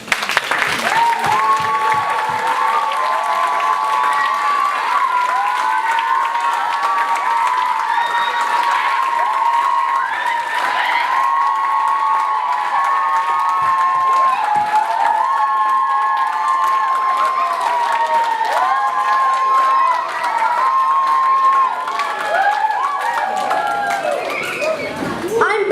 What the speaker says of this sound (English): we can all give you a huge round of applause to all performers